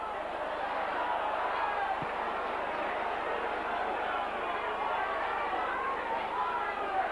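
A St Helens rugby league crowd at a 1991 home match against Castleford keeps up a steady, far-off roar and murmur that rises with excitement. A commentator talks over it throughout.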